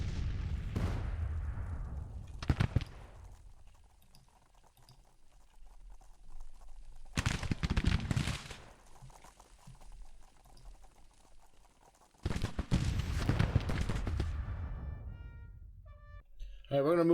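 Civil War battle in the Grand Tactician strategy game, with bursts of rumbling artillery and crackling rifle volleys separated by quieter gaps.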